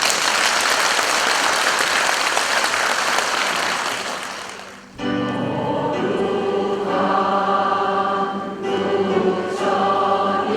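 Audience applause for a Buddhist ritual performance team at a Buddha's Birthday celebration service in Seongnam, a dense steady clapping that fades out after about five seconds and gives way to quieter sound with tones.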